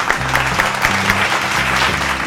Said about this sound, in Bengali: দুজনের জন্য জোরে হাততালি।